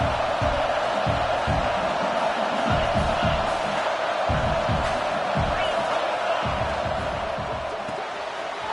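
A Texas A&M college football stadium crowd sends up a sustained, loud roar with rhythmic surges and thumps, while a commentator talks faintly beneath it.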